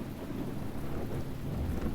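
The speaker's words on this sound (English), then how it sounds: "Now can it please stop raining?" Steady rain falls with a low rumble of thunder in The Talos Principle, a continuous, moderately loud wash with no voices.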